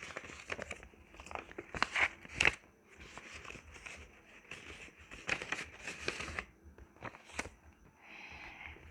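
Paper cash is tucked and stuffed into a paper savings envelope, making soft, quiet crinkles and rustles in short handling bursts close by.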